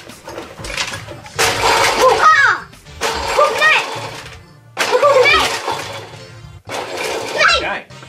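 Dry ice is scraped into a container for homemade ice cream in loud, gritty, crunching bursts separated by pauses, with voices, including a child's, talking between them.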